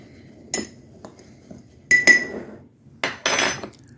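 Ingredients stirred in a bowl with a utensil, several separate clinks and knocks of metal against the dish in an irregular rhythm, close and alone.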